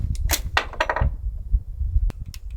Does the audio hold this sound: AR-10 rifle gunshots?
yes